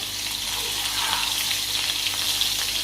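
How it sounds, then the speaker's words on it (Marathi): Green chillies, asafoetida and curry leaves sautéing in hot oil for a cauliflower and potato sabji give a steady, close sizzle that continues unbroken throughout. "व्यवस्थित परतून घ्यायचं आहे।"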